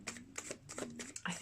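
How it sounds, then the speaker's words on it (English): Quick riffling bursts of shuffled tarot cards, several short crisp flurries in close succession, fairly near. "I'm going to shuffle these one more time."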